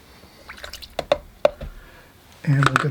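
Water is flicked onto a watercolor painting for texture, making a few light, separate drips and splatter taps up close, before a short burst of louder noise with a voice at the end.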